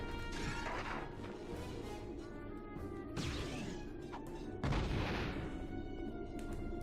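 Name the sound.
explosion in Crash Team Racing (video game)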